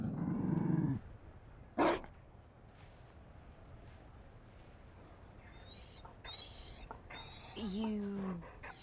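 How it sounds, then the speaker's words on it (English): Mabari war dog from the video game Dragon Age Inquisition, low growls and a short yelp amid quiet ambience, with voices speaking in between. "You found a dog."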